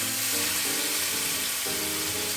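Chicken slices fry in a hot pan over high heat, a loud, dense, steady sizzle that crackles continuously throughout with no voices.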